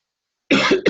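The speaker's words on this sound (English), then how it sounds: "I'm having a slight cough and it's affecting me" After a brief silence, a single close, sharp cough bursts out, followed by a shorter second one.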